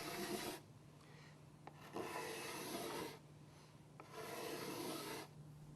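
A cabinet scraper takes three broad rasping passes across a wooden workpiece with planer marks, each stroke a loud, close shhh separated by a low steady hum.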